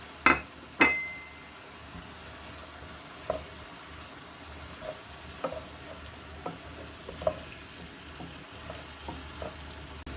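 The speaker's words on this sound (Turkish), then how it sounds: "Şimdi soğanlarımıza, biberlerimizi de ilave ediyoruz. Birlikte kavurmaya devam edeceğiz." Onions and peppers sautéing in oil in a pan, a soft continuous sizzle with a couple of sharp clanks at the start and scattered light taps of stirring, close and fairly quiet, no talking.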